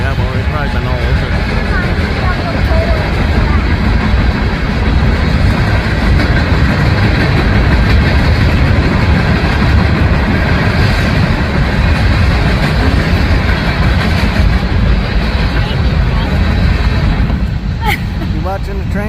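A long graffiti-covered train rumbles past beside the 44-foot Erie Canal lock at Little Falls, New York, a steady close, loud roar with rail clatter under outdoor noise, while people chat nearby.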